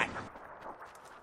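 A single gunshot in a shooter video game lands as a faint, sharp crack at the very start, then fades into a short, quiet tail.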